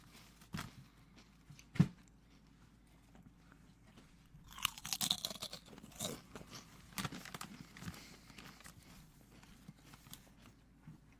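Someone chews a crunchy dollar-store snack close up, with scattered sharp crunches and bites that cluster into a busier burst of chewing midway.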